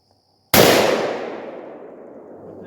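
A single loud rifle shot from a Yugo SKS fired outdoors, a sharp close blast followed by a long decaying echo, with no talk.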